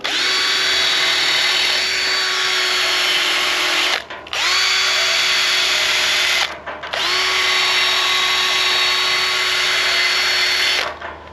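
A small wire brush on a power drill scrubs the grille bars around the bolts of a junkyard Holden Monaro GTS, a loud high whine in three long, steady runs separated by short pauses.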